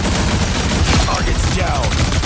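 Heavy weapons fire in a Punisher video game: a dense, loud burst of rapid gunshots and fusillade with sharp cracks and ringing tails over a couple of seconds.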